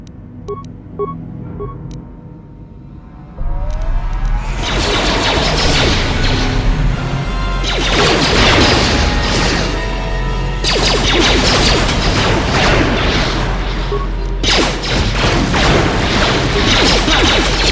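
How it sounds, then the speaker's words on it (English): Bombs explode in Star Wars: Knights of the Old Republic, a quiet lead-in and then a long, loud, continuous roar of crashing, booming blasts and rumble, with several fresh surges of debris and destruction. "the bombs they're dropping will kill us all"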